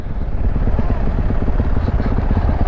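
A big 450 touring motorcycle idles and runs nearby at a motocross track, a steady dense engine rumble throughout with no clear revving peaks.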